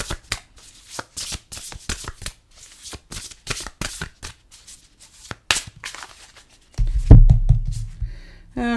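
A deck of animal oracle cards is shuffled in a rapid flurry of crisp riffling snaps, close and steady, ending with a heavier low thud as the deck settles.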